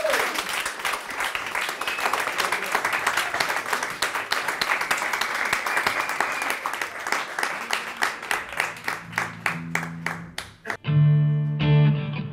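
A concert audience applauds a band at La Chauve-souris venue, a dense, loud wash of clapping that thins out toward the end before a sustained synth or guitar tone takes over.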